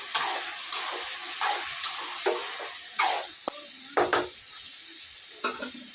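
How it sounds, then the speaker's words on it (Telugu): A spoon stirs salt, chili powder and turmeric into a sizzling eggplant and potato curry, with repeated scraping strokes against the pan over a steady frying hiss, close and clear with no talk. "ఉప్పు కారం పసుపు అన్నీ వేసిన ఒక్కసారి కలిపేస్తా"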